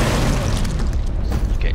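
A cannon fires and shells explode in a Warhammer 40K video game, a dense run of loud booming blasts and crashing impacts one after another.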